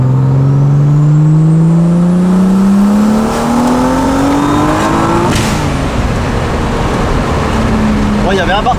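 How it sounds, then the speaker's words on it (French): A Renault 28 Turbo engine revving up with a slipping clutch: a loud, steadily rising engine whine that climbs in pitch for several seconds, then falls away into a rough idle, with voices over it. "L'embrayage il a patiné, ouais."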